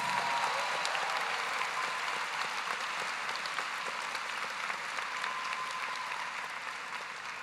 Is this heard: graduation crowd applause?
yes